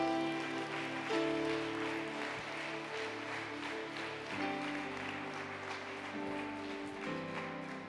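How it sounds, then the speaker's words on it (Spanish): Applause rises from a church congregation during a Spanish-language service, steady clapping blended with sustained keyboard chords and background music for several seconds. "Dile un fuerte aplauso a mi Rey."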